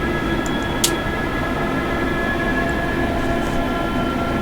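The AP Class 411/412 train runs between Southampton and Bournemouth, a steady loud rumbling drone with humming tones heard from aboard, with a brief click or squeak near the start.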